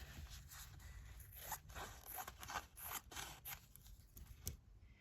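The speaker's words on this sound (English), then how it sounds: "you can use sharp scissors and cut the squares out" Sharp scissors cut through fabric squares backed with Bondaweb fusible adhesive, giving a close series of crisp snipping and scraping strokes in an uneven rhythm with no talking.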